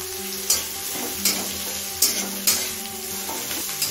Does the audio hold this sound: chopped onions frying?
yes